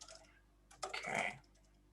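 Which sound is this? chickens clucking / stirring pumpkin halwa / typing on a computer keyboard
typing on a computer keyboard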